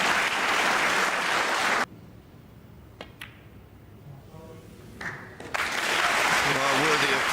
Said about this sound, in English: Well, worthy of applause. What a great century.